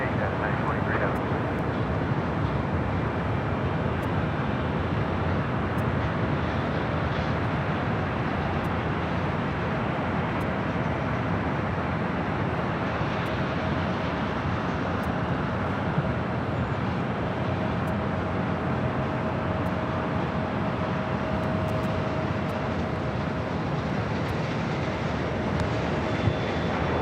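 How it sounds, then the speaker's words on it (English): A Delta Airbus A350 airliner at Los Angeles LAX airport gives off a loud, unbroken broadband engine roar that stays level for nearly half a minute. "Delta A350"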